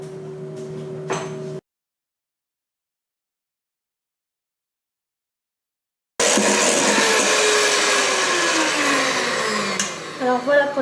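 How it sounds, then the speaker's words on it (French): An electric mixer whips egg whites for a marble cake, whirring loudly and steadily with a shifting pitch after a brief sound and a long gap of silence. "Je vais ensuite monter les blancs d'œufs"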